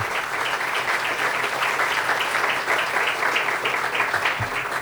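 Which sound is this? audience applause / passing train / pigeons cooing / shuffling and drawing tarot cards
audience applause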